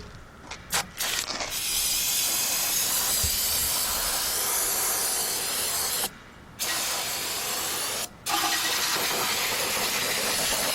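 Carburetor or brake cleaner is sprayed from an aerosol can onto the engine of a 2002 Honda Accord 2.3, a loud, close, continuous hiss broken by two short pauses, with a faint engine hum beneath.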